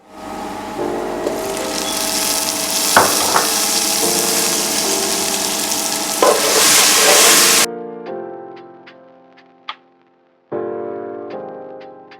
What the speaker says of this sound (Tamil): தக்காளி கொஞ்சம் வதங்கிட்டுது